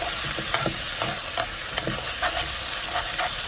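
Two pounds of ground pork stirred in a hot pot, a loud continuous sizzle broken by repeated rhythmic scraping strokes of the spoon.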